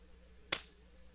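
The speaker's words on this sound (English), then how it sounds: "The clap of our high five echoes through the clear sky." Single sharp clap of a high five in a Persona 4 Arena game scene, one brief crisp snap standing out over a quiet background hum.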